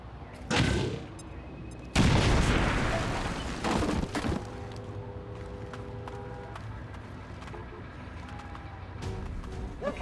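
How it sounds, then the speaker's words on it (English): A grenade blasts apart a building in XCOM 2, a loud, sudden boom followed by a long, rumbling decay and smaller crackling debris sounds. "I'm gonna blow up that entire building."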